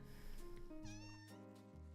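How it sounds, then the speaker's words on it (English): A small cat meows in the video game Passpartout 2, a couple of clear, close, drawn-out meows heard alone over a soft background. "And also there's a cat. See this little cat?"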